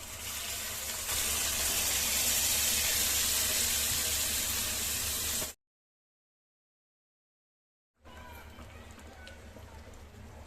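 A cooking pot being rinsed under a running kitchen tap while dal is prepared: a steady, loud rush of water that cuts off for a couple of seconds, then starts again.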